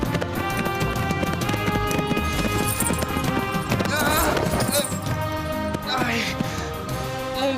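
Horses gallop in a rapid, continuous clip-clop in an animated adventure scene, mixed under a dramatic music score, with a brief voice partway through.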